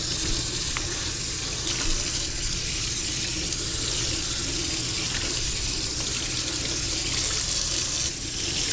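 Cold tap water runs steadily over salt-cured bacon in a sink, a constant close splashing rush with no pauses.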